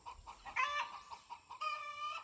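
Backyard chickens clucking softly nearby, a few short rising calls and murmurs in quick succession over a quiet background.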